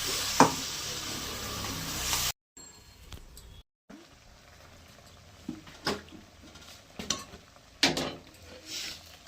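Prawn curry masala of onion, ginger, garlic, dried chilli and cumin paste sizzling in a pan, with soft scrapes and clinks of a spoon stirring it, a loud burst of frying at the start then quieter intermittent stirring.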